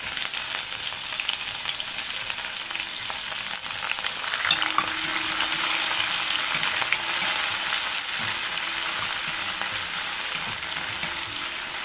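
Crushed ginger, garlic, curry leaves and green chillies frying in oil, giving a dense, steady hiss of sizzling that holds evenly throughout without pause or voices.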